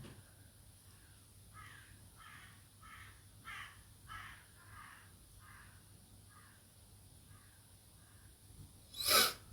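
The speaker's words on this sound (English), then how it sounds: "I'm just listening to the crow that's going crazy outside." A crow caws repeatedly from a distance, a string of harsh calls spaced roughly half a second apart, followed by a sudden closer rustle.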